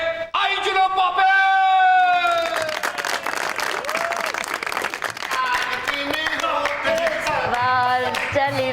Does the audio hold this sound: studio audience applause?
yes